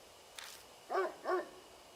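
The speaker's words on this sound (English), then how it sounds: "I can hear a doggy woof woof in the distance" Two quick dog barks sound far off in the horror video game Death Mark, faint and echoing over a quiet background.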